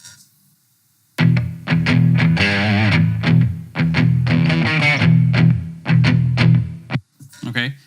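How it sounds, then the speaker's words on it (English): Distorted electric guitar playing chords and riffs in bursts, thick and saturated, with short pauses between phrases; no voices. "And we have the distortion guitar track."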